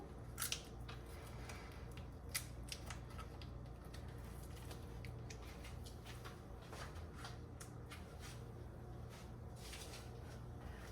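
Quiet, irregular scissor snips and package-plastic crinkling clicks scattered over a steady low background hum in a kitchen, with brief sharper cuts near the start.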